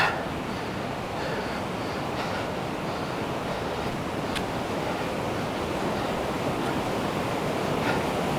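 Steady, dense rushing of fast-moving water in Goose Creek fills the whole stretch, loud and close with no pauses, like a stream tumbling over rocks.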